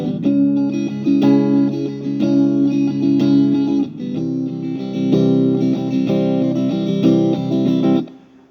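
A clean electric guitar plays octave parts in a steady, strummed rhythm, with bright paired notes repeating in even phrases for about eight seconds before stopping abruptly.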